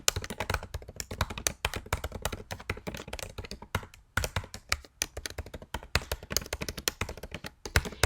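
Steady typing on a computer keyboard while entering a committee name into an online form, with dense, irregular key taps running close and clear throughout and only brief pauses, no voices.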